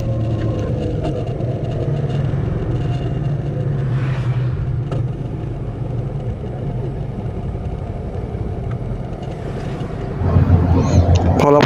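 A Suzuki V-Strom 650 motorcycle cruises along an open road near the beach at Hat Chao Samran, with a steady engine drone and rushing wind buffeting the microphone, rising a little louder toward the end.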